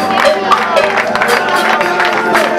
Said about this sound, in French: Applaudissez s'il vous plaît,